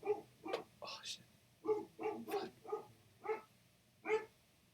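A dog barks repeatedly at someone arriving at the door indoors, a series of close, evenly spaced barks and yips over several seconds, with quiet scolding speech underneath.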